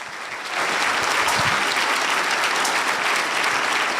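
A luncheon crowd at a Seattle Fire Department awards event applauds a band, steady dense clapping swelling in after a brief quiet start and holding loud to the end.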